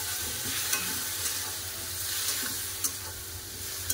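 Ground coriander and cumin with a splash of water sizzle and fry in a pan, a continuous hiss with occasional soft clicks of a spatula stirring, no talk.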